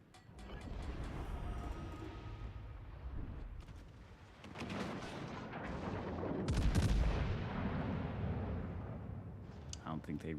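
Battleship broadside gunfire in World of Warships: Legends, the Colorado firing: heavy rumbling booms and crackling shots rolling together over a low, continuous roar, swelling loudest midway, with a voice talking over it.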